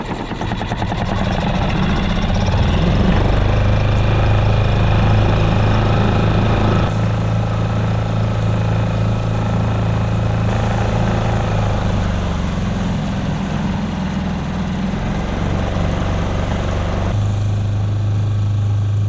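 Small Suzuki DF6A four-stroke outboard pushing a hybrid boat across water at raised revs, a steady loud engine drone with a low tonal hum and wind and water wash, continuous with no talk.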